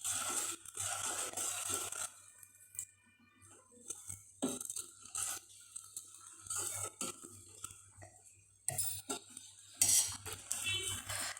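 A spoon stirs coconut milk with jaggery in a vessel, giving intermittent close clinks and scraping taps separated by quiet gaps.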